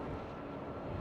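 An ITA Airbus A320 gives a steady, broad engine roar at an airport, heard at a distance as a continuous rumble and hiss.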